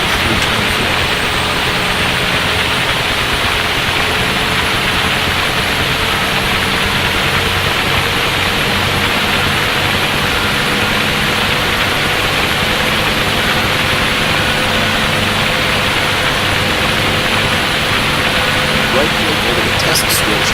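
The turbine engine of a UH-1H helicopter in the DCS World flight simulator runs up and settles into a loud, steady whine and drone that holds continuously over a low rumble.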